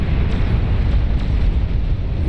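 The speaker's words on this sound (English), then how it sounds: "Massive explosion down here" A massive explosion in the strategy game Beyond All Reason, a loud, sustained low roar and rumble filling the whole moment with no voices.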